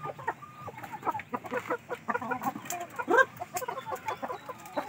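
Aseel Shamo chickens clucking close by at a breeder's farm, a busy run of short repeated clucks and squawks rising and falling in loudness, with one louder call near the middle.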